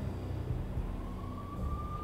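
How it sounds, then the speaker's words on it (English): Police sirens in the Max Payne video game, a faint wail rising in the background over a low rumbling ambience, with a steady tone climbing toward the end. "I could hear the sirens. Their wail was a crescendo"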